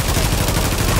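Rapid automatic gunfire in a video game firefight, a loud, steady stream of closely spaced shots filling the whole brief moment, with a trace of voice underneath.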